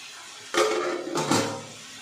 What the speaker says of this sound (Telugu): చూడండి, గిన్నె పెట్టేసుకున్నాను.